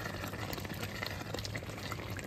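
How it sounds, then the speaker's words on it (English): Spaghetti sauce boiling in a pan, a soft continuous bubbling and popping simmer, faint and close with no talk over it. "and just keep it boiling"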